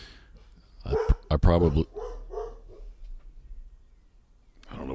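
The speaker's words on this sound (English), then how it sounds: "I don't know what she's barking at." A female retriever barks a few times at close range, short loud woofs bunched together, while someone talks before and after in a quiet outdoor setting.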